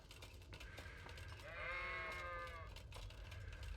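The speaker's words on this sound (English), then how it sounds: "Dog, leave the sheep alone." Sheep bleating in the medieval video game Kingdom Come Deliverance, a wavering, harmonic bleat rising in the middle of the stretch over a low, steady ambient rumble, moderately close and alone with no talk.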